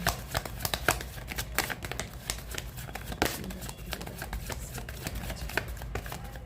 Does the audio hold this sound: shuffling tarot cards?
yes